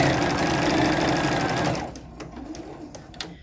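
A sewing machine stitches a narrow fabric strip onto a quilt block, running in a fast, steady whir for about two seconds, then slowing to a handful of separate, quieter stitch ticks.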